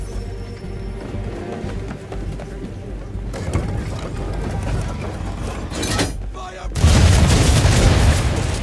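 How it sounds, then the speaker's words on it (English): Ship cannons firing at an enemy vessel during a naval battle in Assassin's Creed III, with heavy booms over constant sea and wind noise that swell into a louder, rumbling volley near the end. "aim all guns at her bow and do as much damage as possible"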